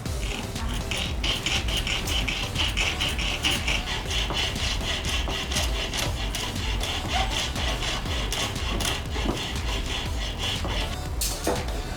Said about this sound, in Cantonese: 右手會揸住呢把工具嘅長弓，慢慢前後來回拉鋸嘅。